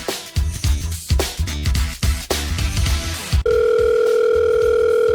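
A telephone dial tone sounds steady and loud after a call is placed, following several seconds of rhythmic music-like thumps, the tone continuing alone to the end.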